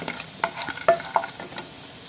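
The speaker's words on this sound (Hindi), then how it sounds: "और 10 से 15 काजू के दाने डालूंगी और इसे रोस्ट करेंगे" Cashews roasting in a pan with whole dried red chillies for a malai chicken gravy: a soft steady sizzle with a few light scrapes and taps of stirring, close and modest in level, no talk.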